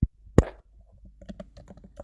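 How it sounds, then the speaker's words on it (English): Computer keyboard typing, a scatter of light key clicks in an uneven rhythm after two sharper knocks at the start, close and fairly quiet with no talking. "I'm just typing it in as we go."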